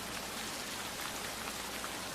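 Steady rainfall patters densely and evenly, a constant hiss of drops with no voices.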